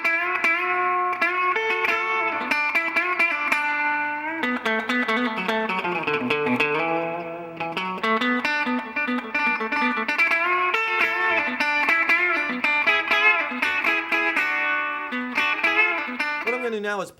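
Budget Xaviere electric guitar on its back pickup, played through a Gibson tube amp: a continuous run of sustained chords and melodic licks, steady and fairly loud with a slight effected, reverberant tone, no talking.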